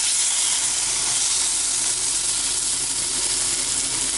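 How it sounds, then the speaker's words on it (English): Beef pieces browning in a hot pan for stroganoff give off a steady, dense sizzle with a faint steamy hiss, close and continuous throughout, with no voices. "what you're wanting to do at this stage is brown all sides of the meat"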